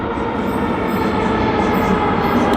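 Steady loud rumble of a Sofia metro subway train running underground, with continuous rail and wheel noise and a faint high hiss, no talk.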